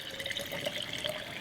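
River water pours steadily into a container for brining shrimp, a continuous close splashing trickle with no breaks and no voices.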